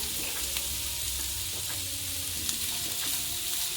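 Onion, garlic, green chillies and ginger sizzle in oil in a pan, a steady close frying hiss broken by faint stirring clicks and scrapes.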